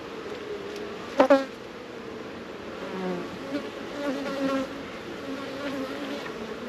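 Honey bees buzz steadily in an open hive, a faint continuous hum with a couple of brief louder bumps near the start.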